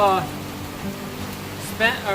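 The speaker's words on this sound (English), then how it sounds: "Stopped here to get out of the rain for a little bit." Steady rain falls outside a trail shelter in the Great Smoky Mountains, a constant soft hiss under brief bits of nearby talk at the start and end.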